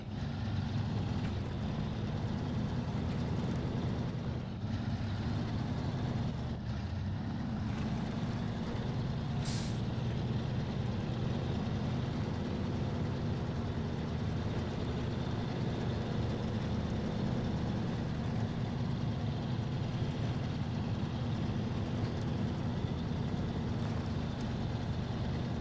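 A truck engine in SnowRunner drones in low crawler gear with a continuous, even low rumble, joined by one brief hissing burst partway through, with no talk.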